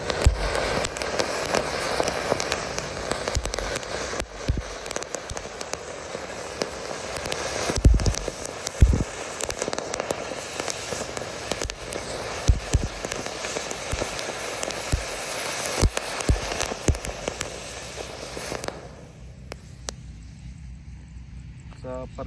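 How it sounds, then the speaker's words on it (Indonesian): A super jumbo fountain firework sprays continuously, a dense hissing crackle with scattered sharper pops lasting about eighteen seconds before cutting off, leaving quieter background. "Langsung kita nyalakan mercon berikutnya adalah air mancur super jumbo."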